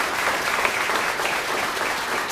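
Audience applause at a store grand opening event, a steady wash of many hands clapping at moderate level throughout, with no voices standing out.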